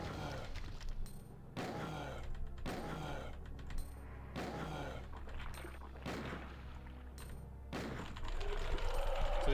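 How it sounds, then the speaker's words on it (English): Repeated gunshots from Resident Evil 2, several sharp broadband bursts spaced a second or two apart over a steady low game hum, loud and close. "We're gonna shoot him in the face."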